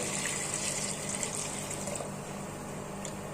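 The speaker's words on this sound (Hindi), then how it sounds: "टमाटर और सांभर के लिए अब डाल देंगे 3 गिलास के करीब पानी" About three glasses of water are poured into a pot with tomatoes for sambar, making a steady, even gush of liquid that runs unbroken from start to finish.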